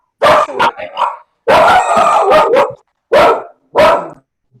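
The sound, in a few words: dog barking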